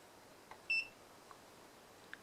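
A short, clear electronic beep near 0.7 seconds from a multimeter in continuity test mode, with a few faint clicks around it in a quiet room.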